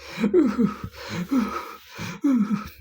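Labored, gasping breaths from a man struck in the chest, an audio drama effect, come in three or four heavy, ragged pulls spaced across a few seconds, close and alone.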